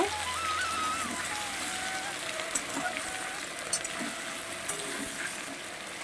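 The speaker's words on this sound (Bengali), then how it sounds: "এটা এবার আমি সুন্দর করে ভেজে নেব বেশ কিছুক্ষণ ধরে আমি ভেজে নেব" Taro stems and potato frying in a pan of hot oil, a steady close hiss of sizzling with occasional light pops and stirring, alone.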